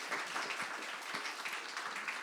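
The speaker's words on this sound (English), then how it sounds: "Clap it up for that." Clapping from an audience at a book launch runs steadily and fairly softly throughout this short moment.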